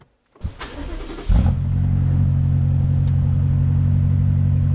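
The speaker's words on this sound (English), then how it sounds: "First tow in the X5M, towing my BMW M3." A BMW X5M F85 towing a BMW M3 starts up with a short whir, then its engine catches and settles into a loud, steady low rumble that continues alone.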